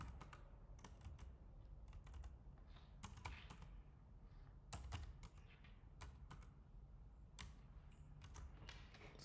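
Quiet, close typing on a computer keyboard, a steady run of small clicking keystrokes with occasional sharper taps, heard alone with no talk.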